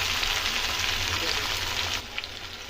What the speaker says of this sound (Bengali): হালকা করে ক্যাপসিকামটা ভাজবো।